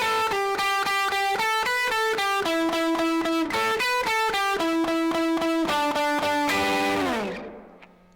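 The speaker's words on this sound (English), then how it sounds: "The distortion, actually, since it's after my Iridium, sounds about like what you'd expect." A guitar runs through the distortion effect of a Teenage Engineering EP-133 KO II sampler used as a pedal, giving a rhythmic, buzzy chord riff that rings out and decays at the end.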